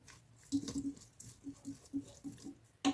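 Ground sweet paprika and black pepper being stirred into soup in a pot: soft irregular scraping and sloshing strokes in quick succession, faint and close.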